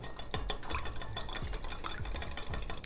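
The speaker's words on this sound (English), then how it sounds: "We're gonna give that a good whisk." A whisk beats eggs with melted butter and water in a bowl, producing a quick, rhythmic clatter of metal against the bowl at moderate, steady volume.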